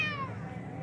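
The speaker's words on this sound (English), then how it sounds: "The cat's trying to attack me." A single aggressive cat meow, a short tonal cry that falls in pitch over less than a second, heard close and clear against a quiet room.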